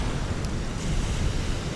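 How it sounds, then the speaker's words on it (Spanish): Ocean surf rolling onto the beach at El Mayto, Cabo Corrientes, Jalisco: a continuous low rumble of breaking waves mixed with wind buffeting, steady and close, with no voices. "Estar aquí frente al mar escuchando el vaivén de las olas"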